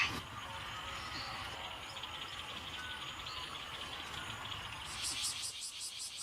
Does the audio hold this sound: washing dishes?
no